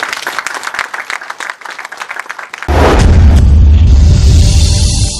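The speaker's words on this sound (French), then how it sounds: "Elle mérite tous nos applaudissements" Scattered clapping from a crowd at a Congolese housing development launch gives way midway to a loud, sustained roar of applause and cheering mixed with low rumbling.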